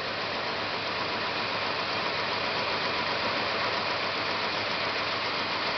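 A 1974 Plymouth Satellite engine idling roughly, a steady, muffled mid-level rumble with an uneven knocking undertone, running continuously and fairly faint.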